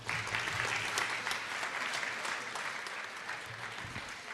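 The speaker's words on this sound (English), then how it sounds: "I think you need another round of applause" Audience applause at a Christmas Giving Tree lighting ceremony at Parliament House, a steady dense round of clapping from a crowd that holds for several seconds before easing slightly, with no voices over it.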